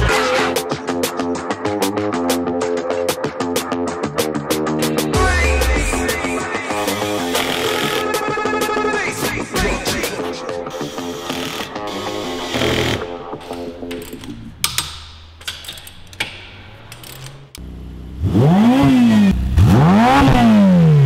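Ferrari F8 Spider with a Stage 2 tune revs hard while stationary, sharp repeated throttle blips rising and falling, a sustained high wail, then a pause and a few more climbing revs, loud and close.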